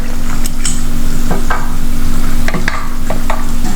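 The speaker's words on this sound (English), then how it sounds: "At this stage, we add the shrimp." Cleaned, deveined shrimp go into a hot pan for a Kerala shrimp and jackfruit curry and are stirred, with a loud, steady close sizzle broken by scattered scraping strokes of the spoon.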